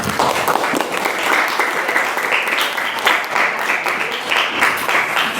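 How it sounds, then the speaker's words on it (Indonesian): Steady applause from a group, dense and continuous clapping filling the whole stretch at a fairly loud level. "tepuk tangan untuk semuanya"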